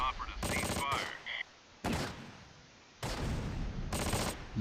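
Mortar shells exploding in the war strategy game Close Combat: Last Stand Arnhem, several sharp broadband blasts in quick succession with short gaps between them, loud and close.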